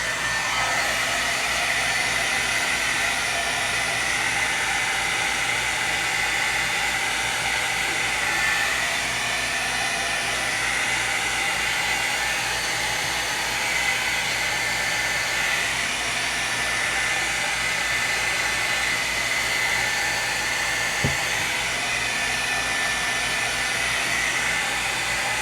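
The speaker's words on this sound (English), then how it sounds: "I am going to hit this with the blow dryer, the heat gun." A heat gun blows hot air over a painted journal cover in a loud, continuous roaring hiss that holds steady for the whole stretch without a break.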